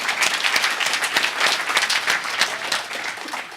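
An audience at a memory-training talk gives a dense, steady round of applause. Many hands clap together, loud and close, with no talking over it.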